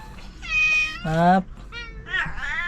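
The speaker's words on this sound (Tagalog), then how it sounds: "Ito, nakakulong nga yung mga pusa namin kasi walang mag-aalaga sa kanila." Pet cats shut in a cage meow repeatedly at close range, several distinct rising and falling cries in a row, with household background quiet between them.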